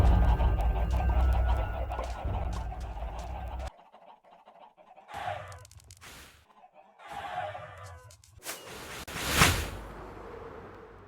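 Minecraft chicken noises come in bursts, clucking and honking calls separated by brief silences, ending in a louder squawk.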